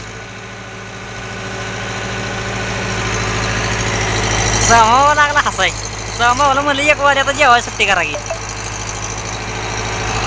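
A farm tractor engine idles and runs with a low, steady drone throughout, while someone talks loudly over it in the second half.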